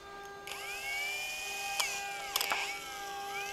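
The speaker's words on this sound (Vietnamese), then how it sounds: "Bây giờ mình sẽ dùng cái đinh 10 này, tức là 5mm, để khoan các bạn xem nha." Drill fitted with a 5 mm nail as a bit boring into pine wood, a steady high-pitched whine whose pitch dips and recovers as the bit bites, with a few sharp clicks along the way.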